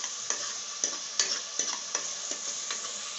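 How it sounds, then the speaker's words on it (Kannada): Ginger, garlic, green chilli, cinnamon and cloves frying in a pan, a continuous close sizzle broken by regular scraping clicks of a spoon stirring, about one stroke every half second. "ಬಾಡಿಸ್ತಿದ್ದಾರೆ, ಸ್ವಲ್ಪ ಸ್ಮೆಲ್ ಹೋಗೋ ತನಕ ಕೈ ಆಡಿಸ್ತಾ ಇದ್ದಾರೆ"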